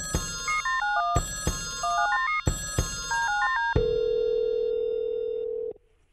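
A sequence of electronic melodic beeps repeats three times, then gives way to a long steady tone that cuts off abruptly, like a phone sounding.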